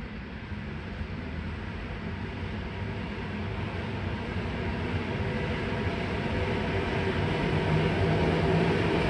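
Polish railway motor train running, a steady broadband rumble that grows slightly louder over the clip, heard continuously with no speech.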